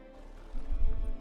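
A horse in The Witcher 3 gives a short snort or whinny over a low rumble of hooves, building briefly and close by in a single burst.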